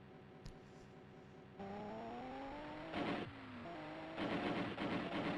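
Engine drone of a car in an Amiga video game, a steady synthesized tone that steps up in pitch as it accelerates, with bursts of noisy crunching near the end, loud and continuous.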